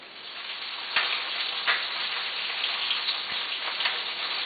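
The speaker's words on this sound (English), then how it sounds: "what we're doing right now is we're frying up the perch" Perch fillets sizzle in hot oil, a steady crackling hiss broken by a few sharper pops.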